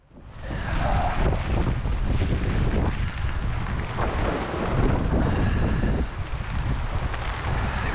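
Strong wind roars across the microphone at a motorcycle rally camp in South Dakota, a loud continuous buffeting rush with gusty swells and no break.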